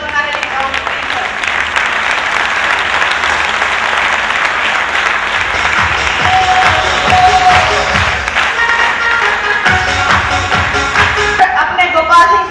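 A seminar audience in Ludhiana breaks into loud, sustained applause lasting over twelve seconds, with a speaking voice heard over the clapping in places.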